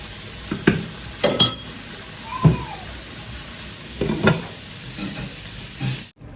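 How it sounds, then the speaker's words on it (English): Four cracked eggs go into a garden egg stew simmering in a pan over lowered heat, with soft sizzling under a few spoon stirs and light clinks against the pan, no voices. "I've got 4 cracked eggs here, so I'm just gonna add it to it, and I will lower the heat for it to cook."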